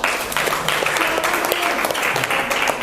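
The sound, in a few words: audience applause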